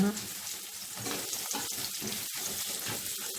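Onions frying in a pan, a soft steady sizzle with watery crackle, fairly quiet and close, with faint speech-like sounds mixed in.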